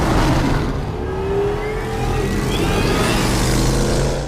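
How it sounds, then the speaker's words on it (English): A car from a Batman movie revs loudly and drives off, a sustained engine roar with rising pitch sweeps, loud and close throughout, without speech. "I'll get my car."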